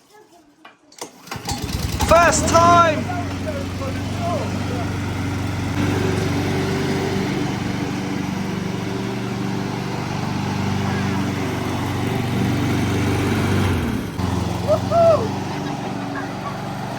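A petrol Weibang lawn mower engine starts and runs steadily at a loud, close idle, with people talking briefly over it.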